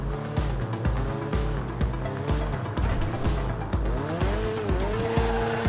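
Video game car roaring in a garage, its engine revving up and down in repeated surges with squealing tires throughout, loud and continuous with no voices.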